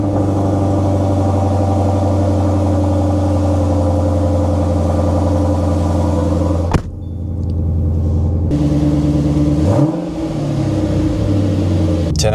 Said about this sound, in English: I always love the cold start in this car.